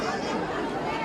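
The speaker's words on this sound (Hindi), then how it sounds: "यहाँ पे रश जो है काफ़ी है" A dense crowd murmurs at the Satlok Ashram exhibition ground in Bhiwani, a steady wash of overlapping voices and chatter with no single speaker standing out.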